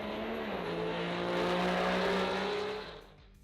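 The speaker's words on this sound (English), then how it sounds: "your car is roaring" A drag racing car at a drag strip event roars hard at launch, its loud engine note climbing steadily in pitch for a few seconds before cutting off and fading.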